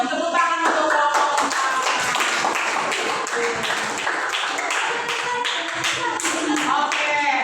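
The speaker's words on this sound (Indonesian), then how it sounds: "Tepuk tangan untuk kelompok" A classroom group claps together for a student group in quick, rhythmic bursts, loud and close, the applause carrying on without a pause for several seconds.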